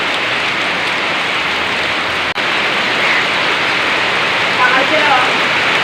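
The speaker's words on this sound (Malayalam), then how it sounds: "നല്ല മഴയുണ്ട്" Heavy rain roaring steadily, a thick continuous wash of drops, with faint voices and a brief clatter partway through.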